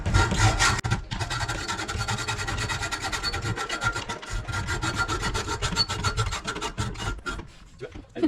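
A VAR bicycle file rasps steadily across metal in close, repetitive strokes, continuous and loud for the whole stretch with a short pause near the start.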